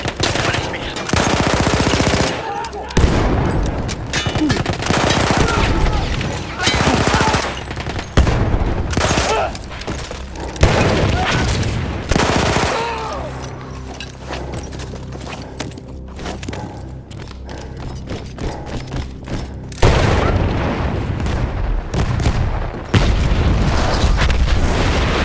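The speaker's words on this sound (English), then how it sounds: "That explosion was one of the sweetest sights of the war for me." Rapid machine-gun fire and booming blasts from the Battlefield 1 video game. The bursts are loud and dense, with a quieter, thinner stretch in the middle before heavy firing returns.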